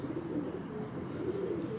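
Soft, low cooing from pigeons runs steadily throughout, fairly close, with a faint rustle of other birds in the background.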